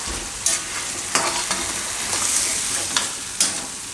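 Jain-style pav bhaji gravy being stirred in a pan, a low simmering sizzle broken by several distinct scrapes of the spoon against the pan at irregular intervals, with no voices.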